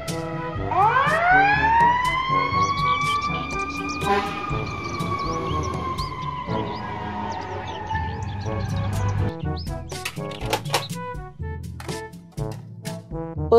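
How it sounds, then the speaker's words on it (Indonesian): A toy fire truck blares a loud electronic siren that rises sharply and then holds a steady wailing tone, followed by a stretch of choppy electronic beeps and clicks. "Mobil, truk, pemadam kebakaran."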